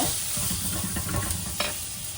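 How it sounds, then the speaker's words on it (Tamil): Ingredients are sautéed in a pan for Coimbatore-style rice and lentil dish, a steady close sizzle with brief scraping stirs and one sharp clack, no voices. "நல்லா போட்டு வதக்குங்க"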